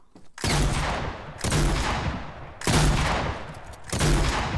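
Gunfire in the battle royale game Fortnite: four loud, evenly spaced bursts of shots, each sharp attack trailing into a decaying rumble, with faint voices in the background.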